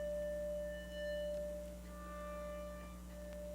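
An Audrey II synthesizer set with a short reverb decay holds a steady, quiet drone of sustained tones with faint shifting overtones and no voices.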